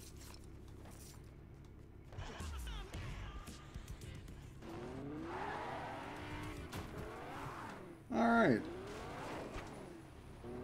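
A car drives and skids in the video game Fortnite: engine drone builds, tires squeal in sweeping slides and a sharp, loud burst hits near the end. A voice speaks briefly early on.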